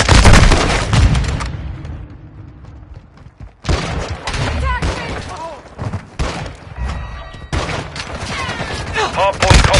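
Bursts of gunfire and explosive thuds in a Call of Duty: Modern Warfare II multiplayer Hardpoint match, loud and dense, broken by a brief lull, with voices and game callouts speaking over the shooting.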